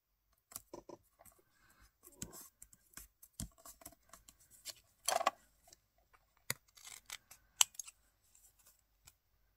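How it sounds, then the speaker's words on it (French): Scissors snipping away excess paper on a Christmas scrapbooking card, a series of short, sharp close-up cuts and clicks in an irregular rhythm with quiet pauses between. "Je coupe le surplus."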